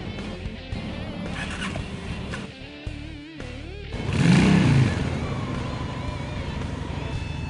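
A 2003 Honda VT750C Shadow Spirit motorcycle engine cranks over, then fires and settles into a loud, steady idle close by, with no voices.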